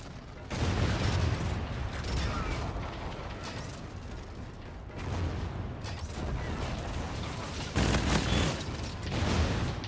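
Sustained bursts of rapid machine gun fire in the video game Infinite Warfare, dense and loud, coming in several long volleys separated by brief pauses.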